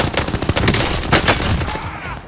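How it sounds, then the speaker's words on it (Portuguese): Dense gunfire in the video game Warzone, rapid overlapping shots and bursts filling a short stretch, loud and close. "Já tem cara atirando em mim."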